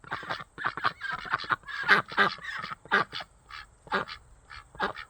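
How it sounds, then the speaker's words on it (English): Ducks on a homestead in Tasman, New Zealand, honking and quacking excitedly while being fed, loud repeated calls in quick bursts close by, with no talking. "Yeah, okay, Super Duck, we'll give you something to eat"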